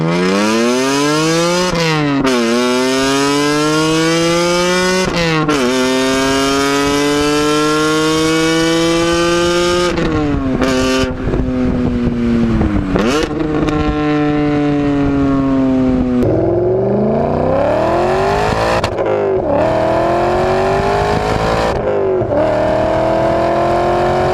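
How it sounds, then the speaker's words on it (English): BMW E39 M5 V8 engine revving hard, its throaty pitch sweeping up through the gears and dropping back between pulls, loud and close with no talk. "In the E39 M5, you've got a throaty V8."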